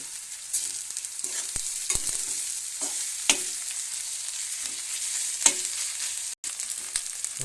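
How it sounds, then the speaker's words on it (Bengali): Ginger paste sizzles in hot oil in a pan after garlic paste, with a spatula scraping and stirring at irregular moments. No one speaks. "এবার আদা বাটা দেওয়া হচ্ছে।"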